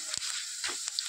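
Raw banana papad frying in hot oil gives a steady, close sizzling hiss with a few brief crackles, heard alone without voices.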